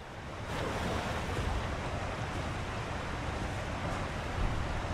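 Waterfall in Elden Ring: Shadow of the Erdtree, with a cave hidden behind it, giving a steady, dense rushing roar of falling water that holds evenly throughout with no voices.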